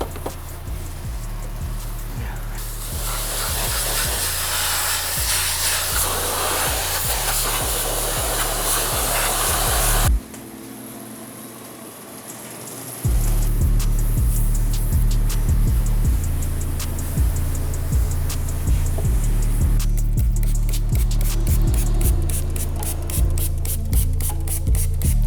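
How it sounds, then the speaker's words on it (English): Heavy acidic wire wheel cleaner, a pontoon aluminum brightener, is sprayed onto the wheels of a car left sitting for years: a long, loud, close spray hiss over a steady low pump hum, with a short pause partway through. "So now we're spraying a little bit of, it's called wire wheel cleaner."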